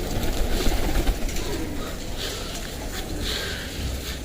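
Homing pigeons coo in a loft, their soft, low calls blending into a steady, dense background of rustling and noise, with no clear talk.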